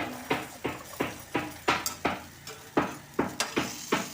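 Finely chopped ingredients frying in a pan, with a regular series of sharp scraping and stirring strokes about three per second over a soft sizzle, close and without talk.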